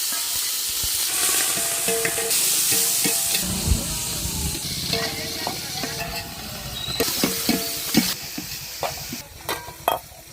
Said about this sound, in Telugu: ఎర్రగడ్డ ఉల్లిపాయలు అలానే కరివేపాకు కొత్తిమీర ఉల్లిపాయ మొత్తం వేసేసుకొని తిప్పేసుకుందాం